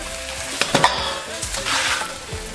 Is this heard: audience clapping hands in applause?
no